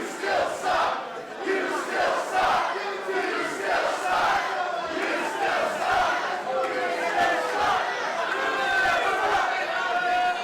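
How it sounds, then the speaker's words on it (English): Crowd at a wrestling match jeering and shouting at wrestler Kevin Blackwood during his bout with Trevor Lee, a dense, continuous roar of many voices with chanting swells, loud and close throughout. "Crowd again giving it to Blackwood."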